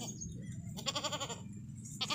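A goat that has recently given birth bleats nearby in a wavering, nasal call with a second short bleat at the end, over a low background rumble.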